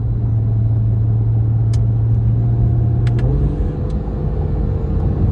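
A 2019 Acura NSX Sport Hybrid with a twin-turbo V6 drones loudly from inside the cabin, a deep steady engine rumble holding under light interior ticks.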